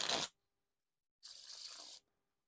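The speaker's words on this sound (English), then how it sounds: "Now for a few wiffle shuffles and bridge shuffles" Tally Ho Orbit playing cards being riffle shuffled and bridged, two bursts of fast fluttering card snaps separated by a brief silence, close and crisp with no voices.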